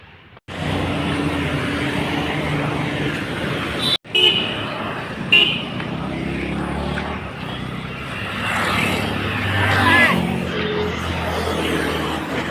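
Busy main town road traffic: a steady wash of passing motor vehicles with a few short car horn toots rising above it, close and fairly loud throughout.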